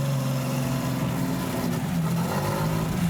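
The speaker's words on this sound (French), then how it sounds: "Le moteur déjà prend son régime, on a moins de cafouillage" A Watercar Panther amphibious vehicle's engine drones steadily close by, its low hum wavering slightly as it holds revs with a faint roughness.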